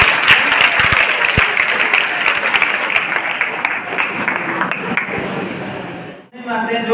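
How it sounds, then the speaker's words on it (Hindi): A group of people clapping during an NDRF team training session on accident response, continuous applause for several seconds that stops abruptly near the end as a voice begins. "भाई के नाम पे एक ताली दे दीजिए।"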